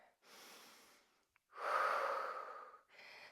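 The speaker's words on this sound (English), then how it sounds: "Still breathing deeply for yourself here." Heavy, deep breaths during a dumbbell workout, close and audible: a sharp inhale, a pause, then a long forceful exhale and another breath starting, with no talking.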